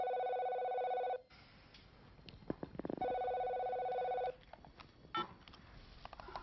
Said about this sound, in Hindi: अच्छा हुआ कि फोन तुमने उठाया।